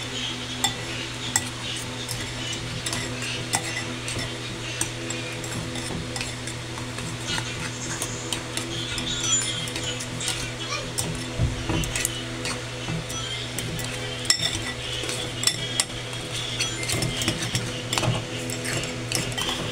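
Drained Buldak carbonara instant noodles are stirred into their sauce in a pan, giving a long run of wet slurping squelches, utensil scrapes and light metallic clicks over a faint sizzle.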